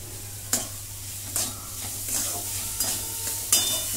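Samosa filling sautéed in a pan, a soft continuous sizzle broken by several scraping stirs of a spatula at irregular intervals, fairly close and moderately quiet.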